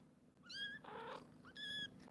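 Kittens give two clear, close meows about a second apart, with a soft rustling, breathy stretch between them that may be purring.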